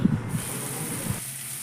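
Chopped onions with salt frying in a pan, a steady close hiss and sizzle that thins partway through, with no talking.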